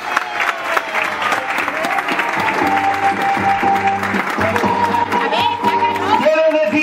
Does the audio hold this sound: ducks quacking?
no